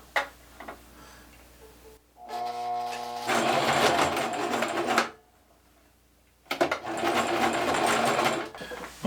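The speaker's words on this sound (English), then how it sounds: "This isn't the most powerful machine, and as I get multiple layers of this denim, it's going to be more and more difficult to stitch through" A modest home sewing machine straight-stitches a denim hem, with two loud sustained runs of fast rhythmic motor-and-needle chatter separated by short pauses and light handling noise before the first run.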